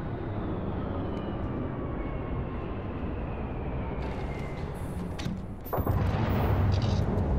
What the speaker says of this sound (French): ça fait des drôles de bruit ici, dis donc, c'est étonnant. Ah, c'est sûrement l'atterrissage des autres vaisseaux